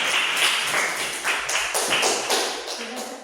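A classroom of students applauds a presenting group, dense, steady clapping from many hands filling the room for a few seconds.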